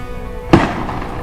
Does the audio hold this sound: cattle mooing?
no